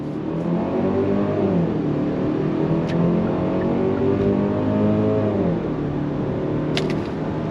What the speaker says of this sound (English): you are gonna hear typical 4-cylinder sound